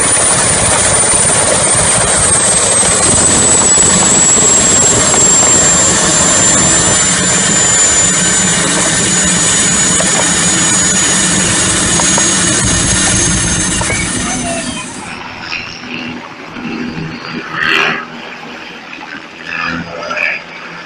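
A helicopter losing tail rotor effectiveness on approach, its loud steady engine and rotor roar with a whining tone filling most of the stretch before cutting off abruptly into quieter, scattered noise.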